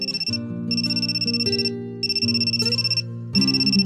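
In the video game Amnesia: Memories, a phone rings with a bright, loud electronic ringtone, repeating short melodic bursts in a steady pattern over a low synth backing.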